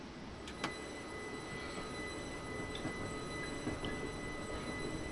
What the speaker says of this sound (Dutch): Kijk, daar heb je de trein die op de terugweg gaat.